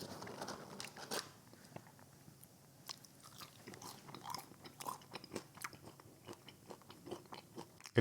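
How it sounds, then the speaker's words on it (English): Jollibee fries being bitten and chewed close to the microphone, with a series of soft crunchy bites and chewing sounds repeating irregularly over a quiet background. "Okay, let's try some fries."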